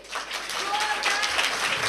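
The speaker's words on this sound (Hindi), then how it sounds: "आपके जोरदार ताली होनी चाहिए हमारे अक्सा के लिए।" Audience applause breaks out at a school event for a student speaker, a broad, even patter of many hands that starts abruptly and holds steady at moderate loudness, with faint speech underneath.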